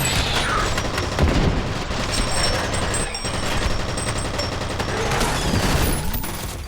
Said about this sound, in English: a 9mm submachine gun based heavily on the H&K MP5K